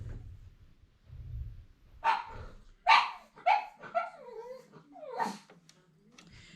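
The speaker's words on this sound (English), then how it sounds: "She's our 10-year-old pug. She's standing on the chair barking out the window at something." A 10-year-old pug barks out a window several times in quick, uneven yaps, fairly close, with brief whiny tones between barks and quiet moments before.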